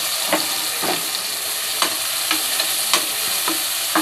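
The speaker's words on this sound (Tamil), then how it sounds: "நல்ல நெய்யில் வதக்கட்டும்." Onions fry in ghee for fish biryani with a steady close sizzle, broken by a handful of regular scraping stirs of the spoon against the pan.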